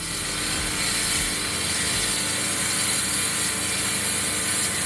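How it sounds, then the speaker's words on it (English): A diamond wet saw cuts relief cuts into a fresh concrete slab on open desert land. The grinding whine is loud and continuous, with a rattling mechanical texture and no pauses. "using a diamond wet saw to cut relief cuts into our concrete slab"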